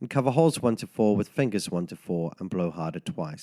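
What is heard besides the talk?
No distinct noise like a dog, phone or traffic.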